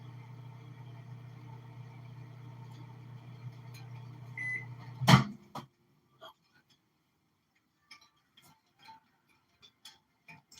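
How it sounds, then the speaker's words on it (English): A microwave oven heating wet doughnut ingredients runs with a steady low hum for about five seconds, then stops with a sharp click or beep, followed by faint scattered ticks and near silence. "I put it in the microwave for 30 seconds, and then I had to put it back in for 15 more seconds"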